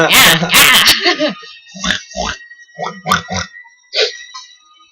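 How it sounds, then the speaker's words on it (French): A large pig grunts in the horror video game Outlast, with several short, separate grunts spaced across a few seconds after a loud burst of speech at the start. "Ils ont un gros cochon. Un gros cochon."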